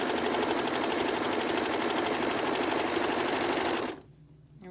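A sewing machine stitching a fabric mask runs close and loud in a fast steady mechanical chatter, then stops abruptly near the end, leaving quiet room tone.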